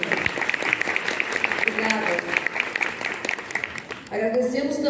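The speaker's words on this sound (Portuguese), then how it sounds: "Queria uma salva de palmas, gente." Theatre audience at a municipal theatre applauding after an orchestra concert, a steady dense wash of many hands clapping that continues for several seconds before a voice begins speaking at the end.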